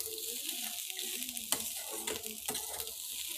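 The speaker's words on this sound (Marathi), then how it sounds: "यात थोडीशी कोथिंबीर टाकून घ्यायची आणि ती ही व्यवस्थित चांगली अशी परतून घ्यायची" Leftover masala rice with coriander is stirred in a pan, the spoon scraping and clinking against the metal over a steady hiss of frying, with no voices.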